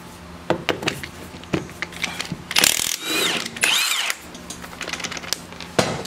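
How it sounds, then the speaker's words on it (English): An impact gun with a half inch drive works on a TCM FG25N2S forklift hub, giving sharp bursts of hammering rattle and short whirring runs between quieter clanks of metal, close and loud. "I forgot that this impact gun had a hog ring on it."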